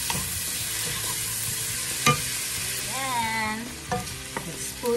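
A hot pan sizzling as cracked pepper and salt are stirred in for pepper steak, a continuous crackling hiss with a few sharp spatula knocks and scrapes, close by and with no voices.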